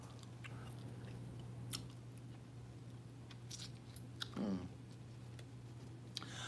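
Gum being chewed close to the microphone, faint soft clicks and a brief wet crunch over a low steady hum, no talking.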